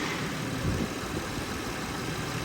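A car engine idles with its radiator fans running, a steady close whir and low hum blowing hot air, holding an even level throughout with no talking.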